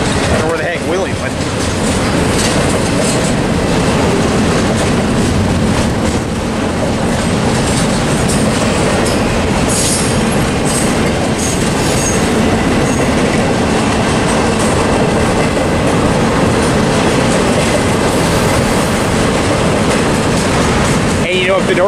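A Norfolk Southern freight train rolls past close by in a continuous loud roar of wheels and cars, with rhythmic clatter and faint squeals. Voices talk over it.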